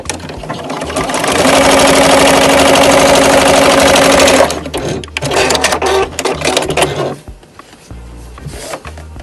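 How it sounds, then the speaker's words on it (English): An electric sewing machine stitches fabric strips together with a loud, steady, rapid whirring hum for several seconds. It then stops and gives way to softer handling noises and brief restarts. "So I'm going to keep them lined up at the top and just keep sewing."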